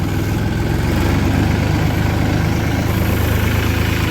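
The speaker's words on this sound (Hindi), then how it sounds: "ट्रैक्टर यहाँ पर मैंने मोड़ दिया है ट्रेंच वाले के पास" Ford 3600 or Massey 245 tractor idling beside a sugarcane trolley, a steady low diesel rumble with a throbbing beat, loud and close, constant throughout with no voices.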